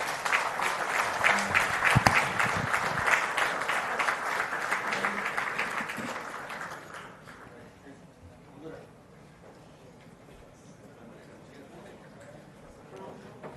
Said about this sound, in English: Can I request you all to welcome him with a round of applause